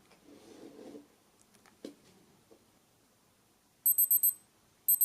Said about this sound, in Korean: 비프음이 들리게 됩니다